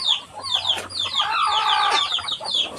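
Newly hatched chicks on a farm, one of them blind in one eye, give a steady stream of high, rapid cheeping peeps, close and fairly loud, with a low hum underneath early on.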